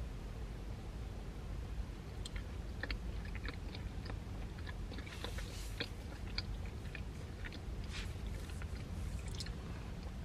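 Close, soft chewing of a Crumbl chocolate cookie topped with Reese's Puffs cereal, with irregular crunchy bites and squishy mouth sounds over a steady low hiss.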